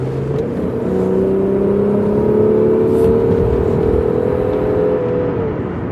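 A Rover 75 with the KV6 V6 engine revs in sport mode, a steady, loud drone that climbs gradually in pitch over several seconds with no talking.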